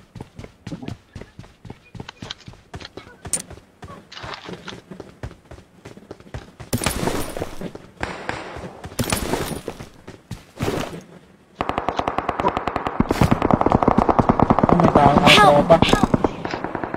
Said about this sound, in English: Gunshot yun.